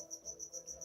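Crickets chirp in a steady, fast pulsing trill that repeats evenly and stays faint but clear, with no voices over it.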